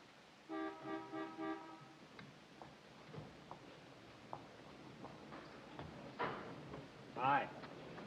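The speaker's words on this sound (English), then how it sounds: "I heard the horn." A car horn honks in a short burst of repeated toots near the start, fairly faint against quiet room tone, followed by scattered small knocks and clicks.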